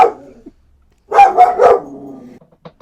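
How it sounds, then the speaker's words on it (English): A dog lets out a quick cluster of three loud, close barks in a row, with a brief yip before them and faint scuffs after. "my dog was just barking like mad"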